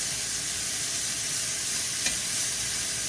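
Dried beef frying in a pan, giving a steady, close crackling sizzle with a stirring scrape throughout and one brief pop midway.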